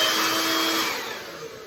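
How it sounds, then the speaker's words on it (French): A Revlon hair dryer running at close range, a loud steady airy whir that eases slightly in volume toward the end. "Donc juste un séchoir."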